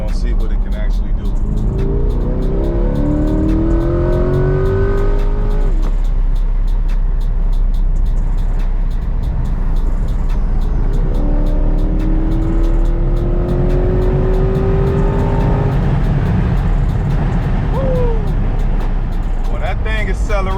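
A Chevrolet C8 Corvette sports car accelerates hard through its gears, the engine note climbing in rising sweeps with a shift between pulls, heard loud from inside the car under steady road and wind noise.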